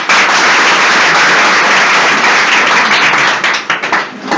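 A loud burst of audience applause greets a contestant at a quiz show event, dense and sustained clapping that fills the room, then thins into scattered claps near the end.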